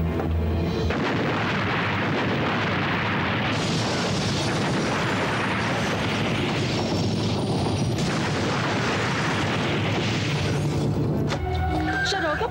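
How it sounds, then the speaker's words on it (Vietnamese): Loud, dense blast and rumble in a Hong Kong TV crime drama, a broadband roar filling most of the span before cutting off near the end, with no speech over it. "Đáng lẽ Quỳnh Dậu muốn nổ chết sếp Lương, nhưng mà anh Thái không may."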